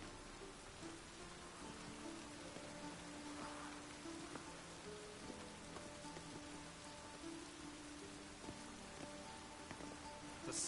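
Steady rain patters continuously in The Witcher 3: Wild Hunt, a soft, even wash of drops on surfaces that stays faint and unbroken, with no voices.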